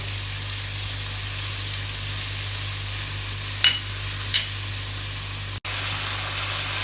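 Pieces of meat frying in a pan for Shimla gosht, a steady continuous sizzle with two brief clinks of a utensil partway through and no talking.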